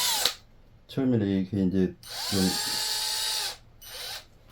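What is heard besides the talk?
power drill boring a hole in Japanese elm bonsai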